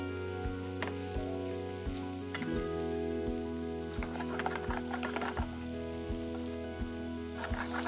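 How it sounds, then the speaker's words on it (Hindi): Onion and grated coconut fry in hot oil with a soft, steady sizzle and crackle beneath a continuous background music bed, no talking. "अब इस तेल में प्याज और नारियल को भूनना है।"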